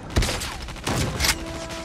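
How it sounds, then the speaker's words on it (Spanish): Three loud blasts from the HS0405 shotgun in Call of Duty, each a sharp burst with a short decaying tail, spaced irregularly across the span. "Fallo algunos disparos con la escopeta."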